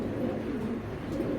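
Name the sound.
racer pigeons cooing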